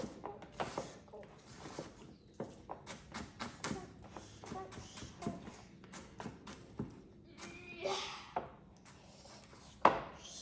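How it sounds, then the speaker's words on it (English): A knife chopping half an onion finely on a board, a run of close, quick taps and thuds at an uneven rhythm, with a few louder knocks and some quiet talk between strokes. "So I'm just cutting half an onion up finely"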